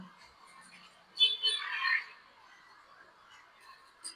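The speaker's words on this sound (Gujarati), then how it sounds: "વરસાદ તો આવ્યો પણ ભેગી ડેઢકી આવી ગઈ" Frogs croak after monsoon rain, a faint distant call swelling into a short burst of croaking midway, then quieter calls and a brief final croak.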